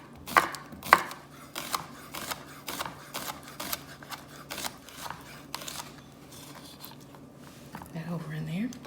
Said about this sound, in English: let's go ahead and chop this one